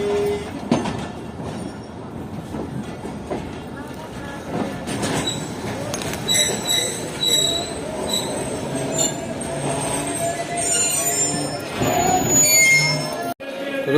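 Karakoram Express wheels squealing as it pulls into Rohri Junction station, a loud sustained metallic screech with rumbling carriages and clatter throughout, voices faintly audible in the station noise.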